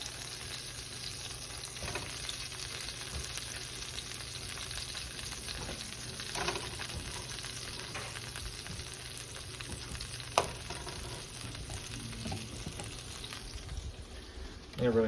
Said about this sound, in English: put the rest of my beef down in the pan